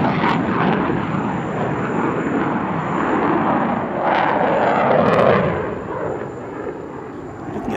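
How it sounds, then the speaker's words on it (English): An F-16 fighter jet performing a high-intensity display at the Dubai Airshow, its engine roaring steadily loud and distant, swelling slightly mid-pass before easing off. "perhaps the highest intensity of any F-16 display in the world at the moment"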